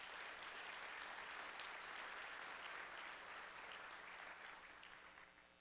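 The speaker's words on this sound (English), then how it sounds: "Can we give them all a round of applause for their leadership?" Audience applause at an opioid abatement conference in Colorado, honoring council and task force leaders: a steady, even wash of many hands clapping, heard from some distance and quietly, gradually easing off near the end.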